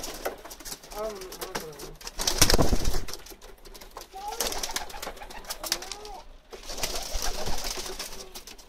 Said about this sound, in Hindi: ये बहुत ही ज़्यादा उम्र का कबूतर है जी, अली वाला।